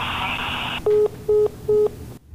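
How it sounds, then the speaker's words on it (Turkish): A telephone call being hung up: a steady line tone cuts off, followed by three evenly spaced disconnect beeps over faint line hiss. "ikna edemeyince de telefon böyle kapanıyor"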